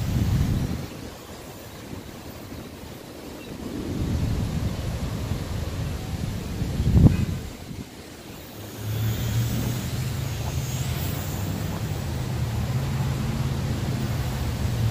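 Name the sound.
wind outdoors while flying a quadcopter drone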